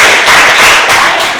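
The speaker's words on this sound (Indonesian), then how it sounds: "Tepuk tangan buat" A classroom full of students clapping together, a loud, close, dense round of applause with no talk over it.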